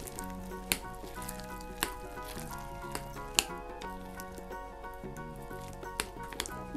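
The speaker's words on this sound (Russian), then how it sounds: "Перемешиваем, чтобы вся начинка распределилась равномерно по тесту." Soft wet squishing and stirring as a filling is mixed into pie dough for quick pan-fried pies, a steady gentle churning with a few sharper taps, close and fairly quiet, no talking.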